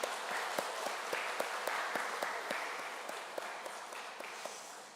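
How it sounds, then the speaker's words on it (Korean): A church congregation at a Wednesday Bible study applauds one another in encouragement, a steady patter of many hands clapping that fades slightly toward the end. "여러분들 서로에게 한번 좀 격려의 박수를 한번 보내도록 하십시다"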